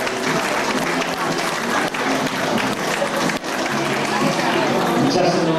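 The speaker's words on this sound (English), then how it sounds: "Nice round of applause there for Juliet." Strong, sustained applause from the audience at a 1992 Blackpool beauty pageant, a loud continuous crowd roar of clapping with no pause.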